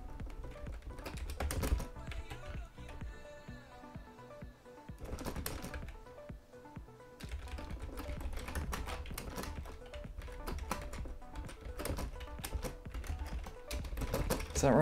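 Fast, continuous computer keyboard typing, close and fairly quiet, with dense clusters of key clicks broken by brief pauses.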